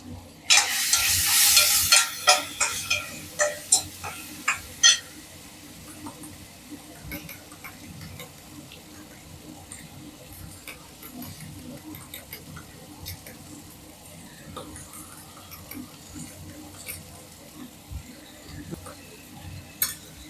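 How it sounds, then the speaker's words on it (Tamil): Egg batter for egg paniyaram being beaten in a bowl, a burst of brisk, rapid clinking strokes for the first few seconds, then only faint scattered ticks and stirring over a quiet background. "நல்லா பீட் பண்ணிக்கோங்க"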